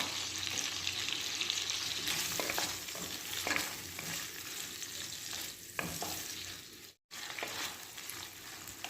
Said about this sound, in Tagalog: pa-fry muna natin yung ating hotdog